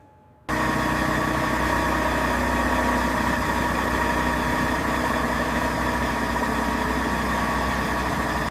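A heavy machinery engine on an overland train starts after a brief silence, catching abruptly and then settling into a steady, loud, rumbling idle with a constant drone for the rest of the clip.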